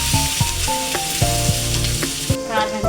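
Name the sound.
mixing spices into sizzling curry in pan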